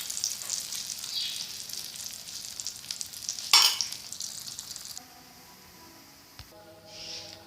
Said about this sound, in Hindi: मैं ऐसे फ्राई अंडा बनाती हूँ